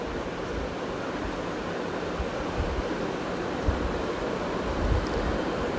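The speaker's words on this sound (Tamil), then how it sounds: "அரிசி போட்டதுக்கப்புறம் அதை நல்லா ஃப்ரை பண்ணணும்" Rice frying in ghee and coconut oil with cardamom, cloves and cinnamon for Thalassery biriyani gives off a steady, even sizzling hiss that carries on without pause and without voices.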